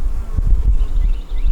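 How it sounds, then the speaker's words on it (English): Honey bees buzzing in an open hive during a yard inspection, a dense, loud, close hum with low rumbling handling noise underneath and no talk. "there are a lot of bees in this hive"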